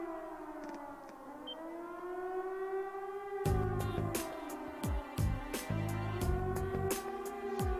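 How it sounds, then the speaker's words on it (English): An air raid siren in the Trails of Cold Steel video game wails with a long rising and falling tone, starting alone and then joined midway by louder rumbling and sharp bursts of other game sounds. "It's an air raid siren."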